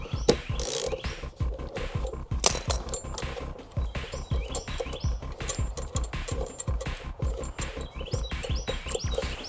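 A bolt thread being backed out on a YardMax 22-inch RWD mower, a close ratcheting tool clicking in quick repeated bursts, with no talking.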